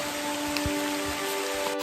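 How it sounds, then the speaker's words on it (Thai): A steady, dense wash of heavy rain falls on a mountain trail, loud and continuous, with a faint tonal hum beneath. "ฝนตกหนักมากค่ะ"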